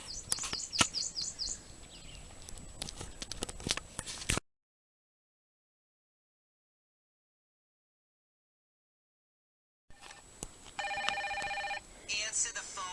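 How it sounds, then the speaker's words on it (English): Outdoors during a solo overnight camping trip in Arkansas, a mobile phone rings with an incoming call: a short, bright ringtone near the end follows a stretch of silence, and talking and outdoor noise come before it. "my mom's trying to call. Answer the phone. Can you hear it?"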